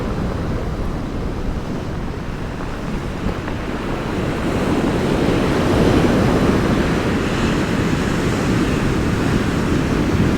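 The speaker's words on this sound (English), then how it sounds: "Pretty big seas them." Big sea waves crash and surge continuously on the beach at Kilnsea on the UK east coast, a loud steady roar of surf mixed with wind buffeting the microphone, growing heavier midway with no voices.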